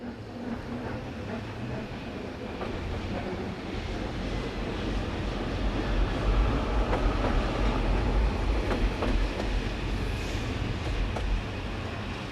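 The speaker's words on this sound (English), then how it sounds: "1099-011 with a train from St Polten." An Austrian narrow gauge train hauled by locomotive 1099-011, arriving from St Polten, gives a low continuous rumble mixed with gusty wind buffeting the microphone, swelling a little midway before settling.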